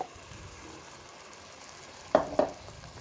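Spice paste and bay leaves frying in oil for pudina green rice, a faint steady sizzle with two sharper spatters near the end, no talking.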